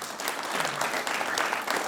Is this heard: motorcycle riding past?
no